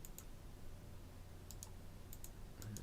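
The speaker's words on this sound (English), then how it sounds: "I'm just going to right click over here." A computer mouse is clicked several times on a quiet desk over a steady background hiss, giving sharp, light clicks in small pairs spread across the moment.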